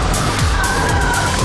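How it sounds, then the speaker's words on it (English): A Toyota GR86 drifts with its tyres skidding and squealing, a loud close rasping screech over a roaring engine, continuous and sustained throughout. "How did you learn to drift like this?"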